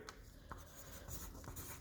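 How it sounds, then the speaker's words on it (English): Pen writing numbers on paper, close and quiet, with short scratchy strokes and brief taps in an irregular rhythm and no talking. "let's write this sucker down"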